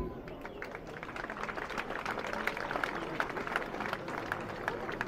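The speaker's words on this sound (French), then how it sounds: "Et je demande au public de s'applaudir" A public crowd at a 14 July parade in Le Tampon applauds, a dense patter of many hands clapping at moderate volume that runs steadily through the whole stretch, with some distant voices mixed in.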